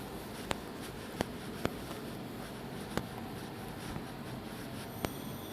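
Pen marks on a board or paper while the full form of IUPAC is written out during an organic chemistry lesson, heard as sparse sharp taps and strokes over a steady room hiss, close and fairly faint.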